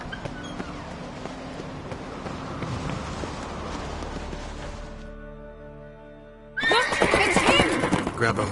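A horse in The Witcher 3 video game gives a loud, drawn-out neigh near the end, with galloping hoofbeats and game voices heard earlier.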